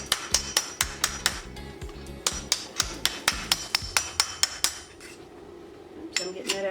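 Hammer striking a copper bracelet on an anvil, a quick series of sharp metallic blows in uneven rhythm, about twenty ringing hits close by, with a brief pause before a final few strikes.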